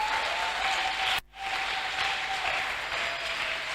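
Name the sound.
church congregation applauding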